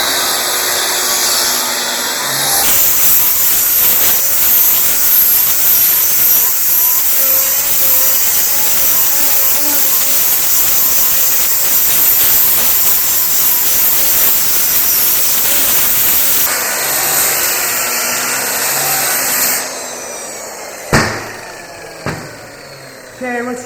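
A 7-inch soft disc grinder works metal on a custom side table build, a loud continuous grinding whine lasting most of the clip before it cuts off, followed by a few sharp knocks.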